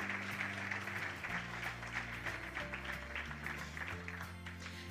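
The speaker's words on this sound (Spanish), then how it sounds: "Un fuerte aplauso para ellos." Applause at the Premio Concordia de Alcañiz award ceremony, steady clapping from the audience with a faint tonal hum underneath, holding at an even level throughout.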